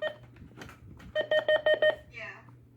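Alert tone of a First Alert WX150 weather radio: a run of five short, evenly spaced electronic beeps after some scattered blips, ending in a brief warbling tone, close and fairly loud.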